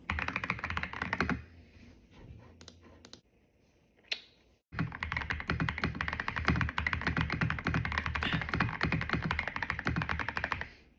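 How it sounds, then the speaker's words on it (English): Rapid clicking of a computer keyboard, close and continuous, with a short pause partway through before the typing resumes at the same brisk pace. "You can hear her clicking her video."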